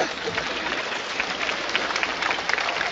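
Audience applause at a high school class of 2014 graduation ceremony, a steady dense wash of many hands clapping throughout, loud and continuous with no speech over it.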